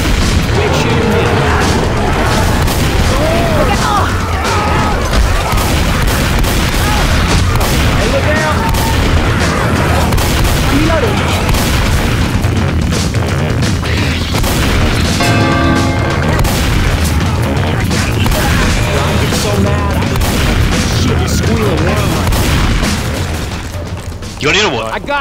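Dense, relentless gunfire and booming blasts from the zombie shooter Left 4 Dead 2 fill the scene loudly and continuously, with several voices shouting over the combat.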